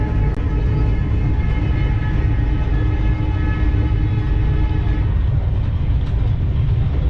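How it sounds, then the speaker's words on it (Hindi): A passenger train on the Agartala–New Haflong–Guwahati line pulls away, its steady loud rumble and rolling wheel noise filling the clip continuously with no voices. "वैसे दोस्तों हमारी ट्रेन एग्जैक्ट 6:10 को निकल गई टाइम पे"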